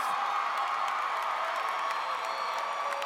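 Graduation crowd at a high school ceremony cheering and applauding steadily, a dense, sustained wash of claps and shouts that stays loud and even throughout with no pause.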